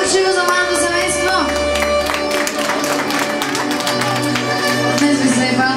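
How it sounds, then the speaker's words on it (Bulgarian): Wedding guests applaud and cheer at a village celebration in Staro Oryahovo, a steady crowd roar of clapping and shouts blended with loud music and an announcer's voice over the top throughout. "Аплодисменти и горшиво за малко семейство."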